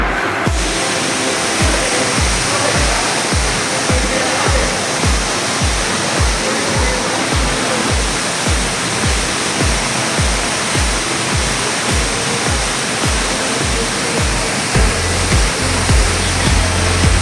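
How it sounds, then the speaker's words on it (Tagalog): A waterfall at Ayong's Adventure Park roars in a dense, continuous rush of falling water, loud and steady throughout with a faint rhythmic low thumping beneath it and no voices. "Look at that falls!"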